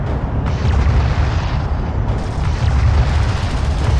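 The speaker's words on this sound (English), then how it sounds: "First Galcian cruiser destroyed." A Gaalsien cruiser blows apart in a desert space-strategy battle, a loud, sustained explosive rumble with heavy low-end roar and crackling debris that rolls on without pause for several seconds.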